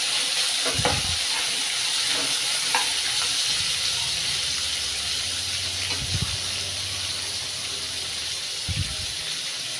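Onions cut into long strips fry in a pan until browning, giving a steady, close sizzle with bubbling hiss and a few soft stirring knocks from a utensil.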